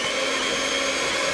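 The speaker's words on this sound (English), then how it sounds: "it's really important to really whisk in between each addition." An electric mixer whisking eggs into an orange and chocolate cake batter runs as a steady, continuous whirring hum at an even level throughout, with no voice over it.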